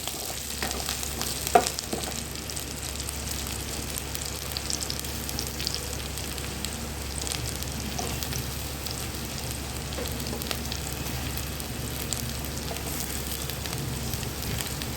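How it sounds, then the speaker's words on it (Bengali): Chopped garlic and chili sizzle steadily in hot oil alongside browned onions, a constant dense crackling hiss with an occasional faint utensil knock, close and even throughout. "তখন তেলের ওপর কুচি করে রাখা রসুন আর লঙ্কা দুটো দিয়ে দিলাম।"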